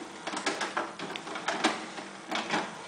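HP PSC 1350 printer starting up and loading, giving irregular mechanical whirs, clicks and shuffling movements at moderate volume close by.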